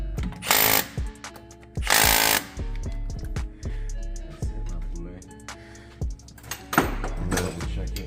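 Pneumatic impact gun tightening the crank pulley bolt on an Impala SS, in several sharp rattling bursts with quieter workshop noise and mechanical clatter between them.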